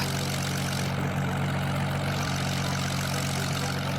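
Plane engine in the Roblox video game, a steady droning hum with a low propeller-like buzz, continuous and even at moderate level with no talk.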